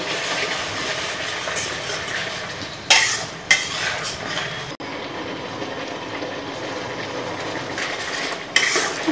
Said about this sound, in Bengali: একটু মশলাটা ভাজা হোক, তারপর চিকেনগুলি দিয়ে দেবো।